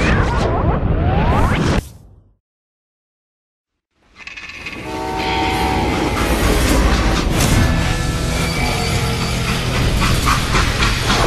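A steam train in the Call of Juarez Gunslinger game roars loudly, then cuts to a short silence before rushing steam hiss, whistle-like tones and rolling rail clatter return at full strength.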